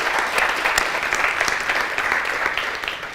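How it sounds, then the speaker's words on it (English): Conference audience applauding, a dense, steady patter of many hands clapping that continues evenly throughout at moderate volume. "So give an applause to the organizers."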